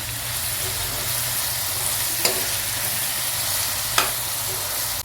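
Sliced onions sauté with salt in hot oil for a chicken biryani, producing a steady, even sizzle with two brief clinks of a spoon against the pan.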